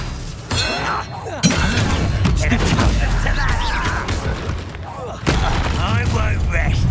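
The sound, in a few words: Expelliarmus spell being cast in video game Hogwarts Legacy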